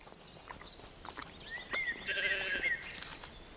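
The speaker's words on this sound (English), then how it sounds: "Sheep, both great and small, eat their fill." Sheep graze on a juniper meadow by the shores of the Müritz lake, with several bleats from near and farther animals layered over soft outdoor ambience, one louder wavering bleat standing out.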